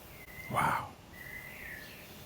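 Birds call outside near an open window, with a thin, sustained chirping tone and one louder nearby call over faint room hiss.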